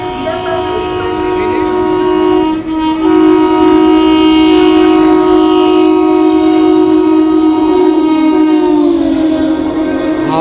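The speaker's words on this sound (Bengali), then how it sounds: "বালিয়া এক্সপ্রেস।" The Sealdah–Ballia Express passes close by, its loud, sustained multi-tone horn blaring for several seconds over the rumble of rolling railway coaches.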